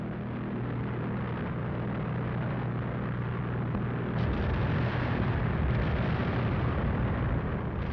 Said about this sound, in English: within 3 weeks of the German invasion of Poland, the Luftwaffe was bombing Warsaw